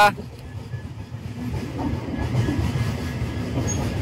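A train departing Alipurduar Junction rumbles and clatters as it gets moving, a heavy low roll growing steadier and louder, heard from on board in a general class coach.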